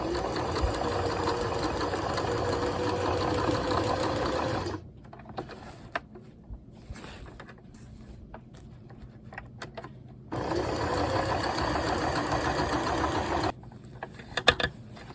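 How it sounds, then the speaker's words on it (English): A sewing machine runs in steady whirring bursts stitching fabric for a bag, pausing briefly in the middle with small handling clicks before stitching resumes up close. "we're going to go back to the sewing machine and sew these, leaving this open"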